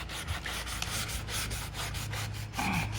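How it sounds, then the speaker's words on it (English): Hand sanding of peeling roof paint on a Fiat 500 with 3M sandpaper, a close, steady rhythmic scrubbing rasp in back-and-forth strokes, with no talking. "And start sanding this thing"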